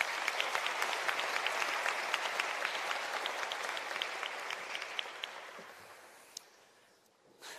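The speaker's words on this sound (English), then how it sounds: "So give yourselves a round of applause." Graduation ceremony audience applauds at Carnegie Mellon University in Qatar's 2021 commencement, a dense, steady wash of many hands clapping that gradually thins and fades toward the end.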